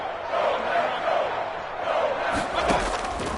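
Stadium crowd roaring at a Packers–Browns football game, a broad sustained wash of many voices that swells louder with sharper shouts near the end, under faint commentary.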